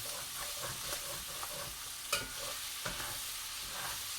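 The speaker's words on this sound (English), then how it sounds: "going to melt that butter down in there." Butter melts and sizzles in a cast iron pan, a steady soft frying hiss with faint stirring scrapes and one brief clink, close and continuous without talk.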